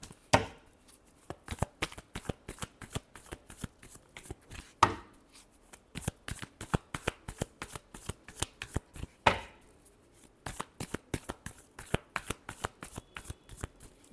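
Tarot cards being shuffled by hand, a dense run of crisp riffling snaps and slaps repeating in bursts close up, with no talking.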